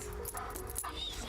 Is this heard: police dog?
yes